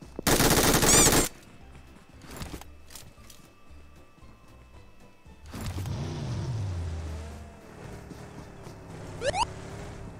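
Rapid automatic gunfire bursts in a video game, with one loud sustained volley at the start, scattered shots after, then vehicle or movement noise, a few faint sounds and no talk.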